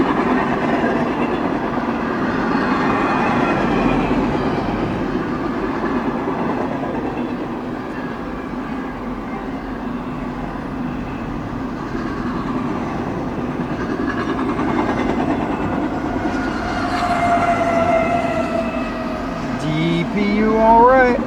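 Freight train passing close by in snowy conditions, a continuous heavy rumble with clickety-clack of cars over the rails lasting throughout, and a rising squeal near the end.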